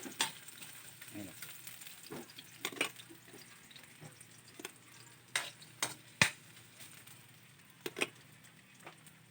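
Ginger sautés in a pan with a faint, soft sizzle beneath scattered sharp clicks and scrapes of a utensil stirring against the metal, quiet and close.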